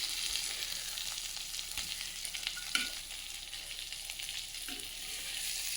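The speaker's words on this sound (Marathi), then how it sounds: "पाहू शकता किती मस्त अशी कढी मच्छीची आणि फ्राय बनत आहे." Kateri fish frying in hot oil for a fish fry, a steady close sizzle with soft stirring bumps and no talk.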